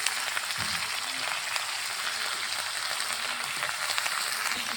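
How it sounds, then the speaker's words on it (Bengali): Carrot, peas, eggplant, potato and broccoli fry in mustard oil with onion and garlic, making a constant, dense hissing sizzle that runs evenly throughout at moderate volume. "ঝাল পেঁয়াজ, রসুন, সরিষার তেল দেওয়া গেছে, মশলা বাটা, লবণ, হলুদের গুঁড়ো"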